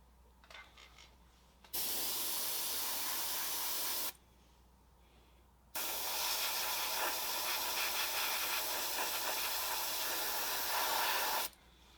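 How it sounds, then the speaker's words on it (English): An airbrush sprays paint onto model railway flex track in two steady hissing bursts, the second longer, with quiet gaps before and between, close and alone. "That's the beauty of an airbrush"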